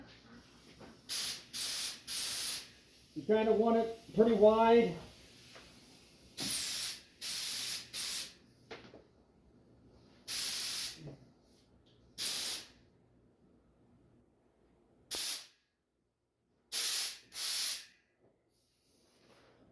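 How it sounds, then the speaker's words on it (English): A spray gun test-sprays for its pattern while finishing an International Scout, giving about ten sharp hissing bursts separated by pauses, close and fairly loud, with someone briefly speaking between them. "Then I see if I get a spray pattern."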